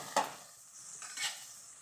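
A utensil scrapes and stirs chopped green onions sautéing in a pan while a faint sizzle of frying runs underneath, with two brief louder scrapes and no talking.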